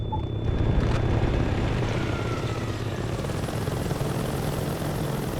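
Helicopter rotors in the video game Saints Row 2 thrum as a loud, steady, continuous drone, with no voices over the whole stretch.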